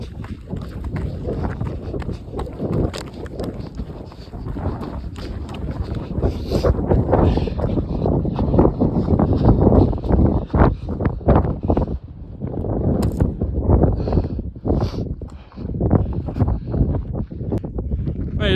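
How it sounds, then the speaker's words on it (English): Strong gusting wind buffets the microphone at the top of a mountain pass, loud roaring bursts rising and falling throughout, with a few brief sharp knocks near the end. "It's very windy, so I don't think you can hear me."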